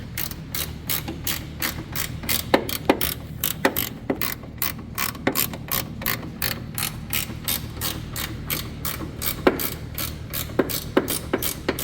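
A ratchet tightens a bolt on a bracket of a Ford Ranger, giving a steady run of rapid, close, crisp clicks with brief pauses between strokes and no talking.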